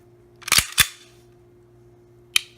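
Beretta PX4 pistol trigger being pulled and released: two sharp, close mechanical clicks in quick succession, then a pause before a third click on reset, over a faint steady hum.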